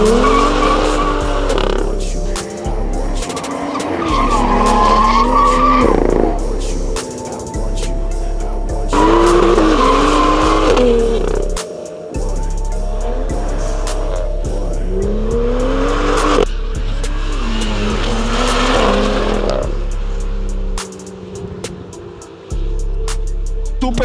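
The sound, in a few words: Subaru Impreza rally car and Tesla racing, tires skidding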